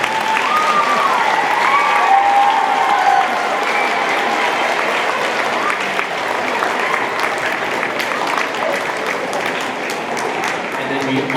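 Sustained applause from a school winter concert audience honoring the parents, steady and dense for the whole stretch, with a few voices and whistle-like tones rising briefly through the clapping.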